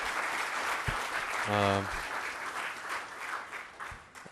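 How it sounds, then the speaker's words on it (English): An audience applauds panelists at the close of a conference session, a sustained crackle of clapping. A voice briefly speaks over it midway, and the applause tapers off toward the end. "I think we should give a big round of applause to our excellent panelists"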